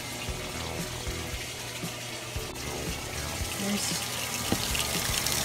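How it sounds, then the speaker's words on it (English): A tap runs steadily into a sink while clothes are rinsed, giving a continuous close splashing wash of water, with a brief spoken word near the start. "I like to kind of rinse the clothes off a little bit"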